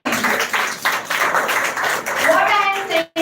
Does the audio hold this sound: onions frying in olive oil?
no